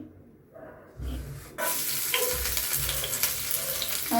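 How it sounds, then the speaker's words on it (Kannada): Garlic dropped into well-heated oil for pepper chicken sets off a sudden loud, crackling sizzle after a quiet start and a few light bumps, then stays as a steady close hiss. "ಇವಾಗ ಎಣ್ಣೆ ಚೆನ್ನಾಗಿ ಕಾದಿದೆ ಇವಾಗ ಮೊದಲಿಗೆ ಬೆಳ್ಳುಳ್ಳಿ ಸೇರಿಸ್ಕೊತಾ ಇದ್ದೀನಿ"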